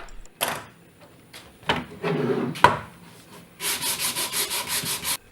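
Wood is sanded by hand with 80 grit sandpaper, scattered rubbing strokes and knocks giving way to a quick run of evenly spaced, rasping back-and-forth strokes.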